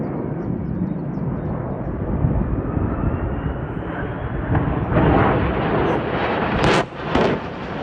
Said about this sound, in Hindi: तस्वीरों में आपको एक साथ 6 जेट विमान उड़ान भरते हुए दिखाई दे रहे हैं